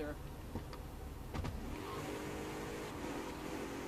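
A Tofaş Toros car engine in the video game GTA hums steadily and climbs in pitch as it accelerates, with a few sharp clicks early on and a sustained, rising drone through the second half.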